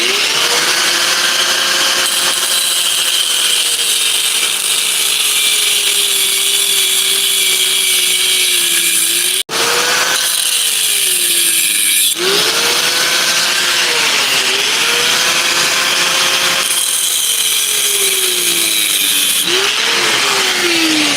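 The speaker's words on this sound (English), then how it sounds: "Let me just use the grinder for one more second." An angle grinder cutting metal in a garage, a loud, sustained high whine that dips in pitch as it bites, with a brief cutoff partway through before it spins back up, running on with no talk.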